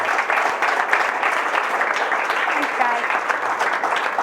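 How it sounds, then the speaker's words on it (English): At the close of an evening cooking event, an audience claps for a chef, a continuous, fairly loud round of applause with no pauses, with voices mixed in underneath. "please let's give a real big round of applause for Mariske."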